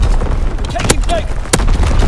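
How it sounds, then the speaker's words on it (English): Division artillery barrage in the World War II shooter Call of Duty: WWII during a domination match, with heavy booms and two sharp blasts over a constant rumble of gunfire and battle noise, amid game radio voices. "Firing division artillery."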